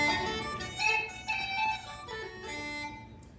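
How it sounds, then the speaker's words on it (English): Irish uilleann pipes chanter, bellows-blown and fingered, plays a bright, reedy melody on its own, with steady sustained notes that swell and dip through a short phrase. "And the chanter sounds like this."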